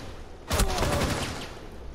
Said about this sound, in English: Hey, Castle, shoot, shoot, shoot a couple bullets.